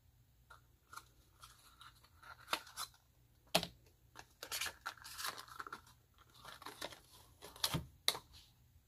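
A roll of tape is pulled and torn in a quiet room, giving a series of close, sharp crackling rips and small clicks scattered irregularly over several seconds.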